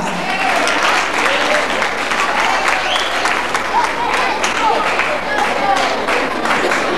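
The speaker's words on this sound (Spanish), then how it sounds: "Un aplauso para la señorita Miss Cañas Gordas." Audience applause at a cultural night beauty pageant, loud sustained clapping from a crowd filling the whole stretch, with cheers and voices mixed in.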